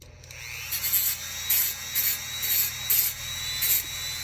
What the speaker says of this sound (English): I do have like a little mini chop saw behind me